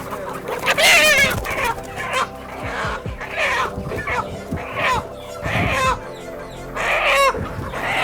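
Country chickens, including roosters, cluck and squawk loudly in agitated bursts while being caught for a country chicken biryani, with repeated sharp calls close by and no talk.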